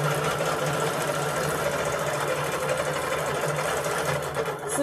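A sewing machine stitches a stipple free-motion quilting pattern, its rapid mechanical chatter running continuously and fairly close throughout the short stretch, with no talking.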